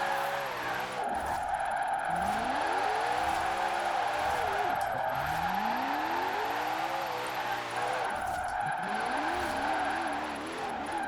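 A Koenigsegg on drift suspension slides through Forza Horizon 4: the engine drones steadily as its pitch sweeps up and down through repeated revs, with a continuous tire hiss and squeal underneath and no one speaking.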